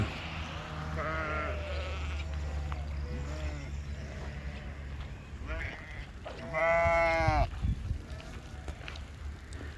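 Several sheep bleat in wavering calls, some near and one loud, over a low engine rumble and background murmur.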